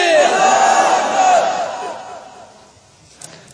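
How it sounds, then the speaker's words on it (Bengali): A large gathered crowd at a religious gathering shouts a loud takbir chant in unison, the roar swelling then fading away over a few seconds. "একটা তাকবীর দেন।"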